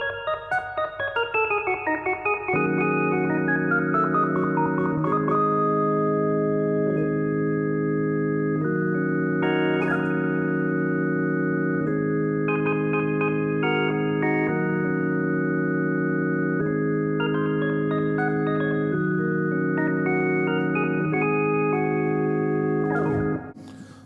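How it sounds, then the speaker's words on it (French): An electric organ with built-in spring reverb plays sustained rocksteady-style chords and shifting notes for a long stretch, with a bright, slightly metallic wash of reverb and no voices. "une spring reverb, ni plus ni moins."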